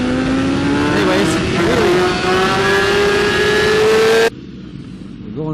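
A BMW S1000RR superbike at a WERA drag launch screams loud and close, its pitch climbing steadily through one long gear before cutting off sharply, leaving lower wind and road noise.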